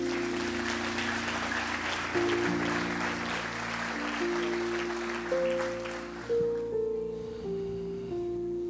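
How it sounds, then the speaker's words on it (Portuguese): A church congregation applauds, clapping for several seconds while sustained organ or keyboard chords play underneath, the clapping thinning out as the music carries on. "Vocês podem aplaudir o Senhor?"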